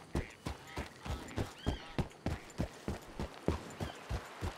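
Horse hooves clip-clop in a steady rhythm in an online role-playing game while hunting, with a brief neigh or whinny partway through, close and fairly loud with no talk.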